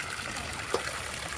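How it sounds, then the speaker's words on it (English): Overflow water trickles steadily from the outlet of a water ram pump, a continuous close, gentle splashing stream with one brief louder splash partway through. "That's some of the overflow water coming out right there."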